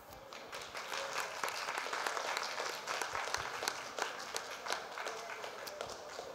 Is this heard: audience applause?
yes